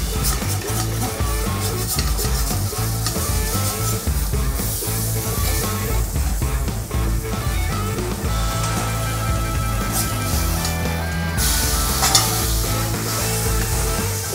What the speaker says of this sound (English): I'm gonna take the back of the spatula and I'm gonna go in under the burger and sort of scrape it off